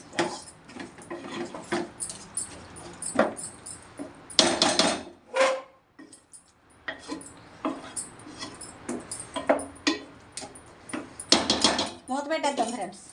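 Repeated metallic clanks and rattles of a lid and utensils on a cooking pot of mutton with tamarind leaves, coming in irregular bursts with short pauses, close and moderately loud.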